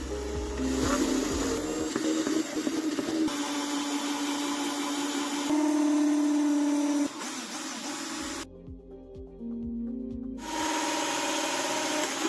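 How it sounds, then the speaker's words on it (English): A power drill with a hole saw grinds and whines steadily as it cuts into an old wooden box, pausing briefly before starting up again, loud and close. "I will cut this gap several times with a hole drill, and then straighten it with a jigsaw."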